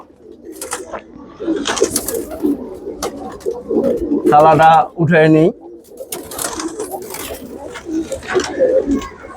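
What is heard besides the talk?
pigeons cooing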